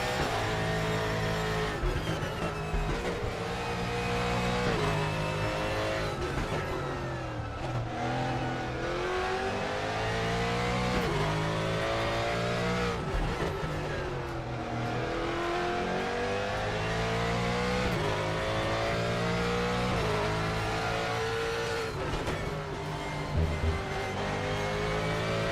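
Race cars in the sim racing game RaceRoom: engines rev up and down through gear changes with rising and falling pitch, tires squeal at times, loud and continuous with no talking.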